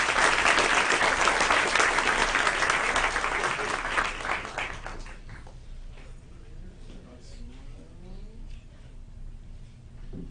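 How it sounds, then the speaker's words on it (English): A meeting audience gives loud, dense applause for about five seconds, which then tapers off into quiet room noise and faint voices. "Let's give them a round of applause."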